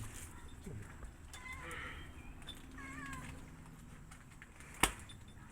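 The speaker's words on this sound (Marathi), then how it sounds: "मोत्याचा बिस्किट मांजर मागते" A cat meows a few times, faint and somewhat distant, with soft background noise and a sharp knock near the end.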